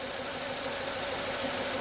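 A Hyundai Elantra engine runs with a restricted exhaust, giving a steady close idle with a faint rapid rhythmic pulsing and no talk.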